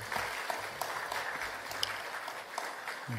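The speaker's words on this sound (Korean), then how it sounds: "같이 박수로 축하해 주시면 감사하겠습니다." Congregation applauding during a Sunday service at a church in Wonju, after a certificate presentation, with steady moderate clapping of many hands throughout and no talk over it.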